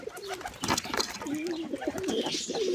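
A wild pigeon coos near its chicks in a nest with low, soft, rolling calls that repeat close by and continue through the moment under faint background noise.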